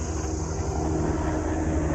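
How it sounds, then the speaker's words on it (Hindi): A helicopter flying overhead near snowy Himalayan mountains close to Chopta, its steady rotor and engine drone filling the air continuously without pause. "ये एक और हेलीकॉप्टर,"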